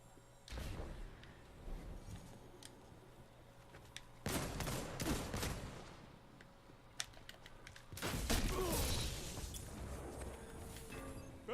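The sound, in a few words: gunfire in the video game Destiny 2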